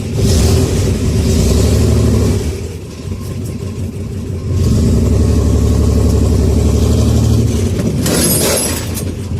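A Chevrolet Corvair engine runs for the first time, rising into two long, loud revs with a brief ease-off between them and a sharper burst near the end.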